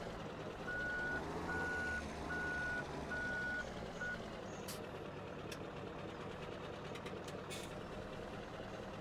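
Truck reversing alarm in Farming Simulator 17 beeps in a steady series over the first four seconds, loud over a constant idling diesel engine rumble, with faint clanks and hiss afterward.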